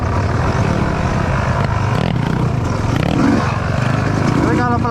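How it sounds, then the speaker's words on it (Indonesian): A trail motorbike runs fast down a dirt track past cornfields, its engine droning steadily and loudly throughout with brief rising revs near the end, while a rider talks over the noise. "Naik trail kalau kenceng kayak gitu tuh malahan enak,"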